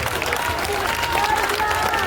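Crowd applause at a political rally, a steady dense patter of clapping that stays fairly loud through the whole stretch with some murmuring voices mixed in.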